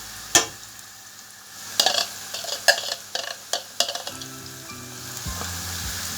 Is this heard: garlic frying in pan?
yes